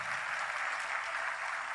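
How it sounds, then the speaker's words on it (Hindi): An audience claps for the brass section at a classical music concert, a steady, moderately faint wash of applause with no break. "ब्रास सेक्शन के लिए भी ताली बजा।"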